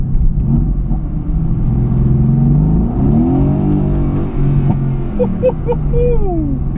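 A Mercedes-AMG GT S accelerates hard from inside the cabin, a loud deep engine roar climbing in pitch, easing off briefly, then rising again with a whining upshift toward the end.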